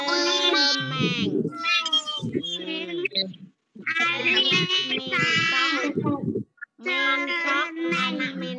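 Loud, close kitten meows, drawn out and repeated in several long cries with short pauses between them, heard alone with no talking.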